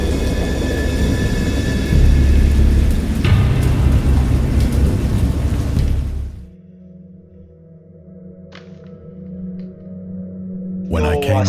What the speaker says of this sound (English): I have indistinct recollections of a great storm sometime after I reached the boat.